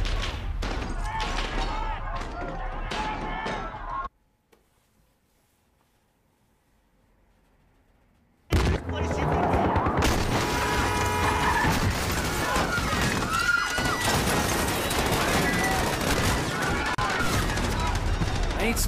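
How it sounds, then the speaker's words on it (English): Automatic rifle fire and explosions in the Modern Warfare campaign, with dense bursts and mechanical clatter that drop into near silence for a few seconds, then return as loud, chaotic, sustained gunfire with layered combat effects. "These guys have got fully automatic rifles"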